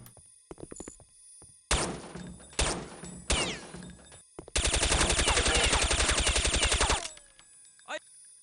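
Counter-Strike gunfire: a few separate heavy shots and short bursts, then a long rapid sustained automatic burst lasting about two and a half seconds, loud and close, ending with one last brief shot.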